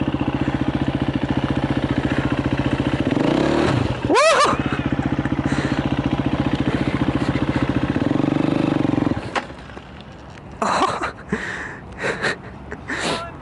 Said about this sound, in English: Literally rev, dump it, and then pull it back in.